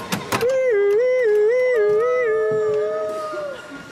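A kids' ride toy in a shopping mall play area plays an electronic dog howl, a loud wavering tonal howl rising and falling several times after a couple of short clicks, then trailing off.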